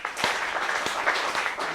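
An audience at a leadership talk claps in a brief, moderate burst, individual hand claps standing out in an uneven patter.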